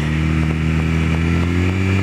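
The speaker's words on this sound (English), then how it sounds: "We taking shortcuts on a motorcycle." Motorcycle riding through city streets at night, its engine droning steadily and loudly at close range with a constant low hum and no break.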